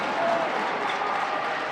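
A crowd at the 2021 NHIAA Division 3 boys basketball championship between Hopkinton and Gilford fills the gym with steady applause and cheering, a dense, continuous roar of clapping and voices close by, holding level throughout.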